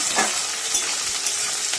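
Chopped onion frying in a pan, a loud, close, continuous sizzle with faint scraping stirs, no talking.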